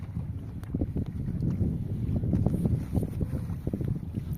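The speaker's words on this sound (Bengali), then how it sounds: "এই যে হাওয়া দিচ্ছে আবার ভালো লাগছে।" Wind gusts outdoors beside open water and buffets the microphone with a low, steady rumble that swells and fades over a few seconds, with no voices.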